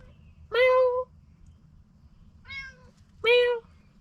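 A cat meows three times in a home garage during frame restoration work on a Pontiac Fiero, with loud, close harmonic cries spaced about two seconds apart and the middle one softer, over a low rumbling background.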